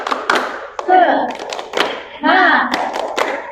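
A group claps out a rhythmic spirit cheer pattern in a school peer-relations guidance session: sharp, close, repeated hand strikes in bursts, mixed with voices chanting along.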